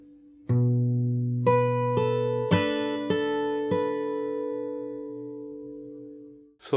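Fingerstyle acoustic guitar plays a song: a low bass note rings out, then four bright plucked chords follow at an even pace and decay slowly, close-miked and unaccompanied.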